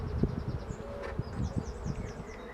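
Honey bees buzz steadily around an open hive during an inspection, a dense close drone with individual bees whining past, the hum continuous across the whole moment.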